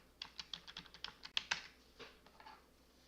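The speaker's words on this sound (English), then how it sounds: "Let's type in shipping." Typing on a computer keyboard, a quick run of about a dozen light keystrokes heard close and quiet, with no voices.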